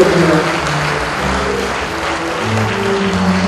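Steady, full applause fills the hall at an inauguration ceremony for a federation president during a plaque presentation, with a low musical hum underneath.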